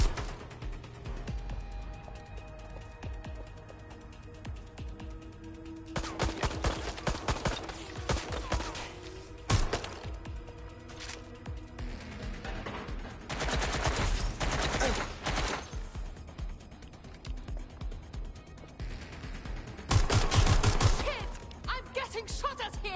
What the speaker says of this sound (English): Hecht is shooting.